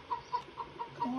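Chickens cluck in a bear simulator video game, a few faint, evenly spaced clucks repeating over a low, steady background.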